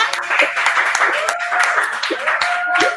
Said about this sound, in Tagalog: pwede na kayo pumalakpak